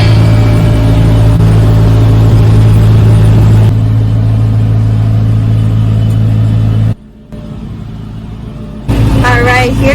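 Steady, loud low engine rumble from inside a tractor cab while mowing land, droning continuously, briefly dropping out near the end before returning.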